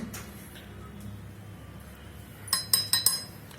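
A metal spoon taps and clinks against a glass four times in quick succession near the end, while coffee powder is scooped in; a quiet room hum fills the moments before.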